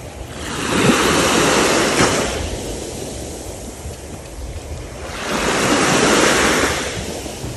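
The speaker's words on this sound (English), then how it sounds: "And to finish the evening off, a nice walk on the beach." Ocean waves roll onto a beach at Boracay in the Philippines at evening, two broad washes of surf swelling and fading over light wind noise, with no voices.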